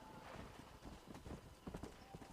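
Horse hooves clip-clopping during riding in the Red Dead Redemption video game, a faint rapid run of hoof falls with a few louder clusters, rhythmic and alone with no talk.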